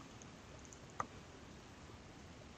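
One sharp computer mouse click lands in the middle of near silence, quiet and isolated against a faint background hiss.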